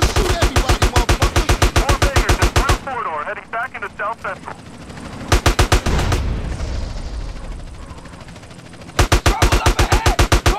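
Rapid automatic gunfire from a drive-by shootout in GTA San Andreas, loud close bursts of machine-gun fire split by brief pauses, with a helicopter-like roar and shouted voices in between.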